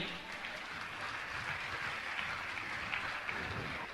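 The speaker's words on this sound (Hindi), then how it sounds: "जोरदार ताली बजाकर इनका सम्मान करें।" Audience applause at a Jain religious gathering with Praman Sagar Ji Maharaj, a continuous, fairly soft wash of many hands clapping, steady throughout with no voice above it.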